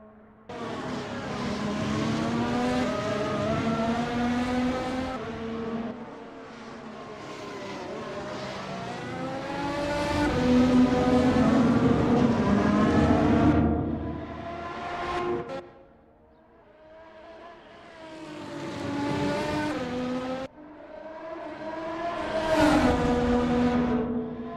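Race cars on a circuit at the Semanggi Interchange, engines climbing and falling in pitch as they pass and shift, a steady loud drone that fades briefly before building again.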